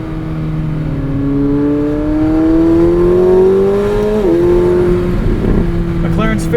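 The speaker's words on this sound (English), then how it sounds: "You can just listen to that exhaust." A 2024 McLaren 750S exhaust roars as it accelerates, the engine note climbing through the gears, loud and close from inside the car.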